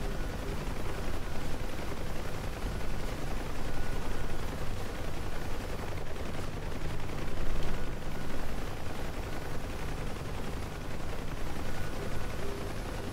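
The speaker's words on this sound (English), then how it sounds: "Avoid some of this gunfire." Sustained gunfire and explosions rattle around a helicopter during an attack run in the flight simulator DCS, a dense, continuous barrage heard steadily throughout with no pauses.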